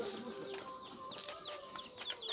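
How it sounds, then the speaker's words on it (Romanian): Chicks of a broody hen peep in high, repeated chirps alongside soft clucking from nearby fowl, a steady busy chorus close by with no talking. "uitați aici puiuții de la cloță"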